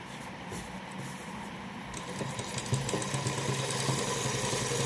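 An electric sewing machine stitches a trouser cuff hem, its motor giving a steady hum that grows slightly louder partway through, with no voices.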